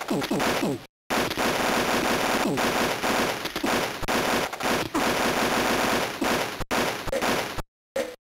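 Sustained automatic rifle fire in the Army Men video game, loud and close, rattling in long continuous bursts with brief silent gaps between them.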